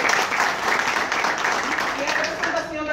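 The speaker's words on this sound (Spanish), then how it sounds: "Gran fuerte el aplauso." Audience applause at a local community event in La Romana, a dense burst of clapping heard close and loud throughout the short stretch, with voices mixed in.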